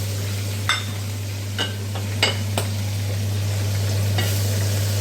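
Onions fry in a pot for a traditional Catalan stew, giving a soft steady sizzle over a low constant hum, with a few sharp clinks of a utensil against the pot and no voices.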